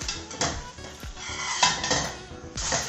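A tapioca and sausage pancake being flipped in a pan: a short run of close metallic scrapes and clanks of a utensil against the pan, with no talk.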